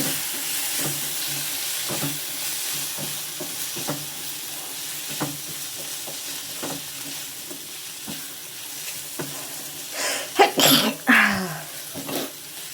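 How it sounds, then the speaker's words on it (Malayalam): Long beans cooking in a pan: a soft sizzle with a series of light scraping stirs at an even pace, followed by a louder clatter of a spoon against the pan near the end, close up with no talking. "ഒന്നുകൂടെ ഞാൻ ഇളക്കി കൊടുത്തിട്ടുണ്ട്."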